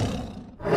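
A tiger gives a loud, rough roar in a guess-the-right-door challenge game. The growl rumbles on for under a second, dips briefly, then swells again.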